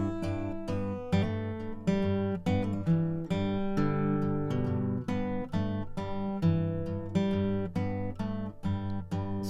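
An acoustic guitar plays a steady pattern with a low G bass note struck in even time under repeated plucked chords, close and clear, with no voices.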